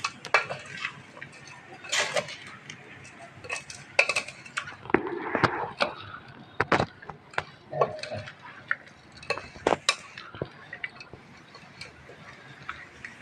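A spoon stirs food in a metal pot while aloo paratha is cooked at home, a run of irregular clinks and scrapes close by, with sharper knocks now and then and no talk.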